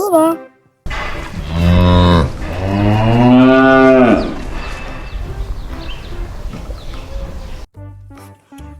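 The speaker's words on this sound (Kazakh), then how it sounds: "Бұл сиыр, сиыр" A cow lets out a loud, long, drawn-out moo close by, followed by quieter rustling background noise.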